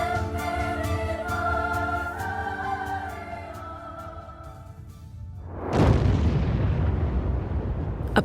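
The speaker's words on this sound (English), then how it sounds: "Watch a big squib coming from the sky lobby band." A heavy blast bursts from the reinforced sky lobby band of a World Trade Center tower, a sudden loud broadband roar cutting in over steady tonal background and then rumbling on to the end.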